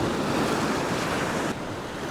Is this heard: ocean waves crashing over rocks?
yes